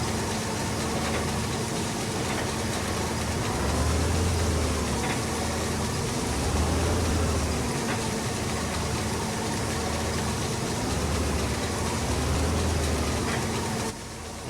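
A Bizon combine harvester's diesel engine runs hard during the grain harvest beside a farmyard, a loud continuous mechanical drone with low throbbing pulses that rise and fall as the throttle is pushed.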